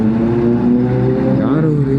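Kawasaki ZX10R superbike exhaust droning steadily from behind on a hill road in the Kanchanagiri Hills, loud and continuous with a brief rise in pitch, a voice talking over it.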